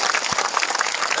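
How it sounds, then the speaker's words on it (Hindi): Applause from people at a party workers' meeting in Lakhimpur Kheri, steady dense clapping throughout a brief moment with a faint voice underneath. "ताली बजे लगे तोरे"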